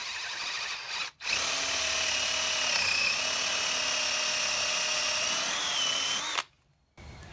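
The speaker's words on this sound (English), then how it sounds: "I'm just going to go through with a masonry bit now" A power drill fitted with a masonry bit bores into brick while building a cabin frame, giving a loud, steady high-pitched whine that cuts out briefly near the start, then runs evenly before stopping.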